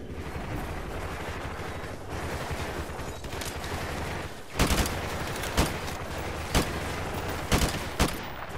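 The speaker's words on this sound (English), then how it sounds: "Oh my gosh, they're just shooting at me." Gunfire in Call of Duty Modern Warfare near vehicles, a steady clatter of battle noise punctuated by several loud, sharp individual shots spaced about a second apart.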